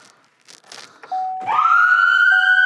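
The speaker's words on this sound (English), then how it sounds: "Easy to turn the siren on." After a few soft clicks, a steady electronic tone starts, then a Chevrolet Tahoe emergency vehicle's siren rises sharply in pitch and holds a piercing wail, close and alone.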